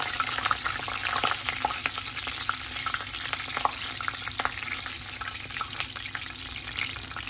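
Garlic tempering sizzles in hot oil for a lentil curry (dal bhuna). The steady, close frying hiss is dotted with small crackles and pops throughout.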